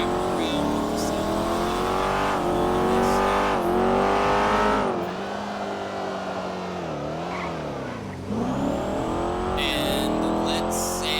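A car in the FleetCore driving game, its engine humming steadily with rising and falling revs as it drives along, loud and close, with speech partly underneath.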